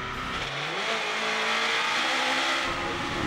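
Onboard sound of a Mitjet race car lapping the Charade circuit: a loud, steady engine drone with rising revs and some tire noise, continuous throughout with no talk.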